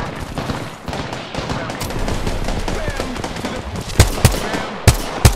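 Gunfire in the video game Apex Legends crackles through a busy mix of game effects, ending in several loud, sharp shots spaced apart.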